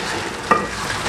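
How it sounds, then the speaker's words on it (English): Liver being stirred in a hot frying pan: a steady close sizzle with one brief scrape of the utensil against the pan in the middle. "Then stir in."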